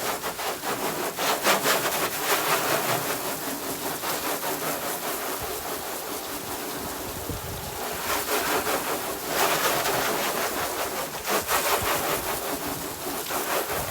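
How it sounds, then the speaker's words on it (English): A car gets rinsed with water after being waxed, giving a continuous, close rushing hiss of spray that swells and dips as the stream moves across the body. "All right, let's rinse it down."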